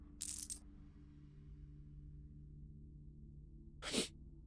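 Two sharp sneezes, one at the very start and another near the end, sound close to the microphone over a steady low game-music drone during a god-game livestream.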